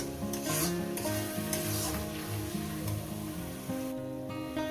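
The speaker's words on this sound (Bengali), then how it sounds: "একটু কষিয়ে নেবো যতক্ষণ না মশলা থেকে একটু তেলটা আলাদা হয়ে যাচ্ছে" Spice paste for a potato chicken curry being sautéed in oil in a pan, a steady close sizzle with stirring scrapes running throughout, with no voices.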